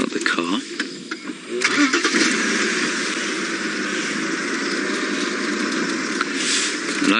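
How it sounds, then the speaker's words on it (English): A safari vehicle's engine cranks and catches, then settles into a steady, loud, close idle rumble. "Okay, I'm going to start the car."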